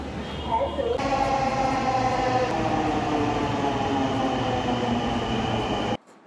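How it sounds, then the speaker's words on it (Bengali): A Dhaka metro rail train runs at speed between stations near Kazipara, a loud, steady rumble of wheels and motors with a sustained whine that cuts off abruptly near the end. "ট্রেন খুব স্পিডে যাচ্ছে"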